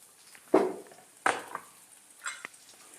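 Onion dropped into hot oil in a kadhai gives short bursts of sizzling and frying, three or four scrapes and hisses close by, with no talking.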